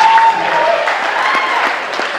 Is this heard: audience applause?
yes